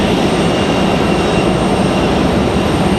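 A Breeze Airways jet airliner arriving from Louisville, Kentucky at Raleigh-Durham airport gives a loud, steady broadband roar and rumble throughout, with no voices heard.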